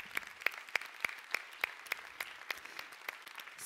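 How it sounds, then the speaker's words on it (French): A small audience at a round-table conference applauds the panel with sparse, fairly quiet claps, spaced and rhythmic, heard alone in a hushed room. "je voudrais vous remercier de votre excellent travail de modératrice et aussi d'applaudir notre panel."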